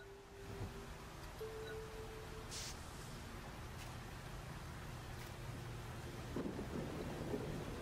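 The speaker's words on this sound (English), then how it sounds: "I do not want to get caught in the rain." Steady rain hisses throughout a stormy scene in the video game Lizard Game, with low rumbling thunder underneath and a faint tonal hum, all fairly quiet and without any talking.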